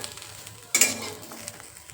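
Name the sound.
grated coconut roasting in a pan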